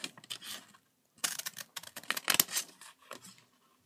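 Scissors snip through dried glue on a stuffed toy in a run of quick, close, crisp cuts with short pauses between them.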